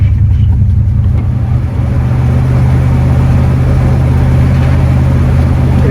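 A 1974 Cadillac Superior hearse's engine runs close and loud just after starting, a deep steady rumble that settles into an even idle after a brief dip.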